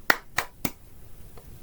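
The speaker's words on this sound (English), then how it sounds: "Clap!" Three sharp hand claps in quick succession, close and crisp, each fading fast into a quiet room.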